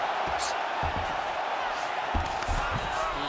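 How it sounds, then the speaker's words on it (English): Arena crowd noise in the EA Sports UFC 5 video game, a broad sustained roar that swells at the end, with a commentator talking over it. "big pop from the crowd as they get back to their feet"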